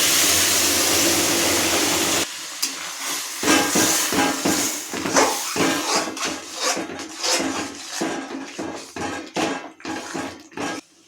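Boiling water poured into a hot cooking pan sets off a loud hiss and burst of steam, which quickly settles into bubbling, spluttering sizzles with pot clinks nearby.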